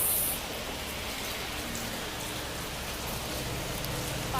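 Steady rain falling at a roadside stop on the way to Shirdi, an even, continuous wash of drops on surfaces throughout, fairly close and alone with no voices.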